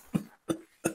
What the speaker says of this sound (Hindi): खांसते खांसते